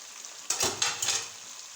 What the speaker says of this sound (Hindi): अब दूसरी साइड से भी हम 5 से 7 मिनट तक फ्राई करेंगे।